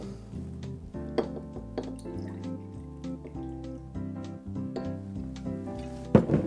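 Myers dark rum poured into a cocktail shaker, giving a soft trickling splash with a few small knocks and a louder clatter near the end, heard close and quiet with no talk.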